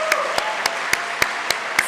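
Applause from a modest crowd at a FIRST Robotics kickoff ceremony, with a steady wash of clapping and a few sharper, regularly spaced claps standing out above it, fairly close and brief.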